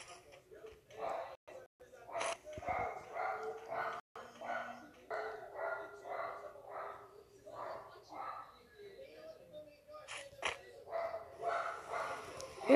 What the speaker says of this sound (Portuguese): Quando começa a gravar, esse cachorro começa a latir.